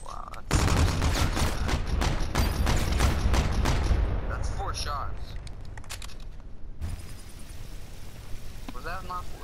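Call of Duty gunfire in a 3v3 match, a rapid stream of loud automatic shots for several seconds that thins out into scattered distant pops, with players talking over it.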